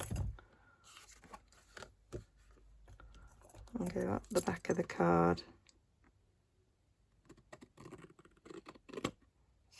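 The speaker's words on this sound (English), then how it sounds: "Get my long scissors" Long scissors cut up the back of a paper card in a short cluster of crisp snips and clicks, with a person talking before and after.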